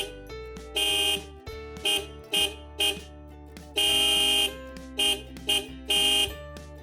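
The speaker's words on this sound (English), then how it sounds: "24 volts disc horn D91BK for 24 volts vehicle." A Blaupunkt D91BK 24-volt disc horn sounds in a series of short and longer blasts, a buzzy high-pitched honk repeated in an irregular rhythm, close and clear with quiet gaps between.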